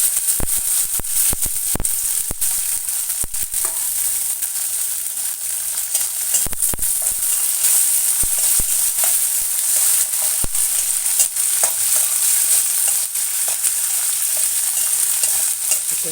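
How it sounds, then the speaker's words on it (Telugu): Spices and lentils tempering in hot oil for a fried brinjal dish, a steady close sizzle and crackle with scattered sharp pops and stirring clicks running throughout, no voices. "కొంచెం వేగాలి పప్పులు"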